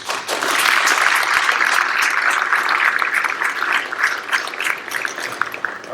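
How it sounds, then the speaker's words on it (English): Applause at a 2025 National Honor Society induction ceremony, a dense, steady round of clapping from the audience that holds for several seconds and tapers slightly at the end. "Please give them a well-deserved round of applause."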